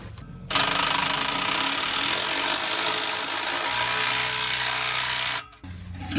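A power drill runs in one long, loud, continuous whir for about five seconds, then cuts off abruptly, while a 3-inch catback exhaust is being installed on a Hellcat Redeye.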